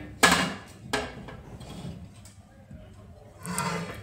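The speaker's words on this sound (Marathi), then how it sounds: "सर्व फणसाचे असेच आपण एक एक करत आता काप करून घेणार आहोत।" A knife slices through a whole jackfruit being cut into pieces for a curry, giving a few sharp, crunchy cuts spaced apart, with quieter handling noise between them.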